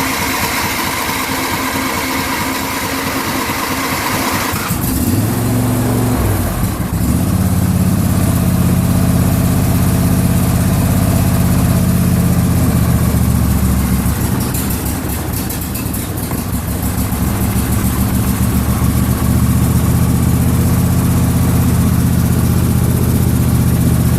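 John Deere LA150 lawn tractor engine idling close by as it warms up after running out of gas, a loud steady rumble that shifts in pitch once early on, then holds an even drone throughout.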